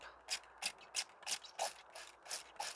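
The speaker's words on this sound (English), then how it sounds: "So I've got a spray bottle which is like a bit of a mister with some rainwater in, and I just spray these." A hand mister sprays rainwater onto plant cuttings set in damp compost. About eight short, even pumps of spray follow one another at a steady rhythm, each one a soft, close hiss.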